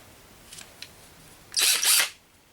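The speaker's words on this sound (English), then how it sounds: "now I'm going to drill my hole." A small handheld drill bores a hole through a piece of leather for a knife dangler, giving a short, loud whirring burst of about half a second after a couple of faint clicks.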